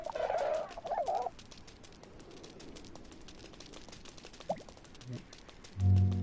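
Flightless bird giving several gobbling, fowl-like calls, two loud bursts at the start and a low call at the end, with quieter rustling in between.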